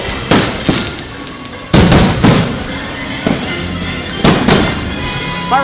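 Fireworks burst over Disney World in a few loud, sharp booms spaced through the clip, each with crackling tails and a steady crowd murmur underneath.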